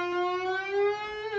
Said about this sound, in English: step and a half bend. That's bending to that.